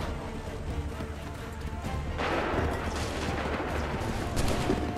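Continuous gunfire and battlefield din from the video game Assassin's Creed III, a dense, loud wash of shots and rumble with no clear pauses, growing fuller partway through.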